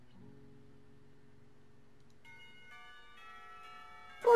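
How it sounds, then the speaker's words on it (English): A school lunch bell in the video game Katawa Shoujo rings as a soft sequence of sustained bell tones, building gently over a few seconds before a louder burst at the end. "The lunch bell rings, signaling a return downstairs."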